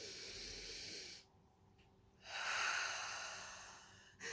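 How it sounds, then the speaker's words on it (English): A woman in labour breathes in gas and air through a mouthpiece, a steady hissing inhale followed by a pause and then a second, louder, longer rushing breath, close to the microphone. "So obviously you hold the gas and air and you breathe up."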